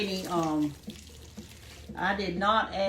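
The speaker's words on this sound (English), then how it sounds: "I'm going to pour them in this colander because I don't want this juice to be in there" Cooked pears, simmered with a little water and no sugar, are tipped into a colander to drain, giving a brief wet splash and trickle between stretches of someone talking.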